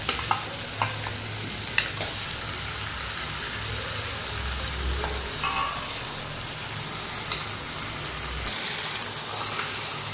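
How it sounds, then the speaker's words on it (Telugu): Chili-coated fish fries in a pan in a bachelor-room kitchen, a dense, steady sizzle like rain with occasional clinks and pops, close and loud throughout and with no talk. "ఇప్పుడు మనం ఫిష్ కారం జల్లుకున్న ఫిష్ వేసుకుందాం"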